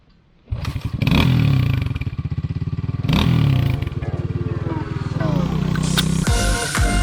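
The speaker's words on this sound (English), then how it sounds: "Does a lot of revving." A dual sport motorcycle engine revs loudly and close by in repeated surges, starting after a brief quiet moment and holding a throttle roar with rising pitch sweeps, without any talk.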